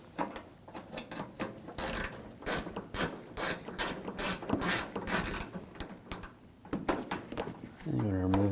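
A ratchet turns an 8mm socket to remove a screw on a 2007-2013 BMW 328i during HID ballast control module replacement. It gives close, rapid clicking in repeated bursts, with a voice speaking faintly around it.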